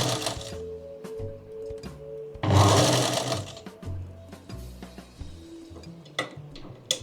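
A sewing machine stitches a blouse in short, close bursts of rapid mechanical whirring, with a louder run in the middle and small clicks and fabric handling between the bursts.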